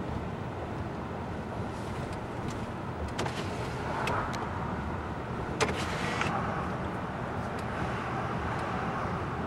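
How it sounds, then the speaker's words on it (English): A car rolls slowly across a lift bridge in Duluth, Minnesota, giving a steady low rumble and road noise with light wind buffeting and a few brief clicks and thumps, no talking. "every time I see a bridge like this, I just gotta drive over it"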